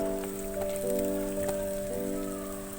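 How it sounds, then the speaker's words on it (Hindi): Onions frying gently in hot oil in a pan over a medium flame, a soft, continuous crackling sizzle with faint pops, heard alone and fairly quiet with a steady tonal hum beneath. "प्याज को हमें ऑयल में हल्का सा फ्राई करना है।"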